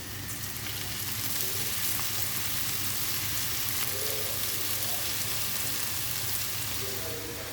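Food frying in olive oil in a pan, a steady close sizzle and crackle running unbroken and evenly throughout, with no voices.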